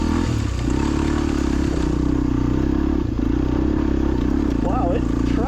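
A beginner dirt bike engine drones loud and steady as the bike climbs a trail, with clattering and scraping from the terrain and a person talking over it.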